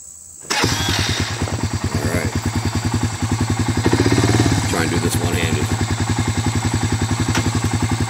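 Dirt bike engine on an MX track driveway incline, cutting in abruptly and then chugging loud and close with a rapid, uneven rhythmic pulse throughout.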